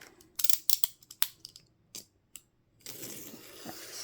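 A blade slicing packaging paper on a cutting mat: a series of sharp scratchy cuts and taps, close and crisp, followed by a longer steady hiss of the blade drawn through the paper.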